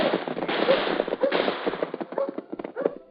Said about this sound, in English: what's all the shooting for?